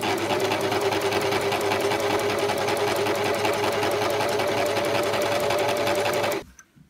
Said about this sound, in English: the needle is stitching centrally down the middle of the roll